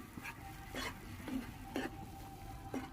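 Doi katla fish is stirred and mixed in a pan with a spatula, making rhythmic scraping strokes about every second over a soft sizzle, near and moderately quiet.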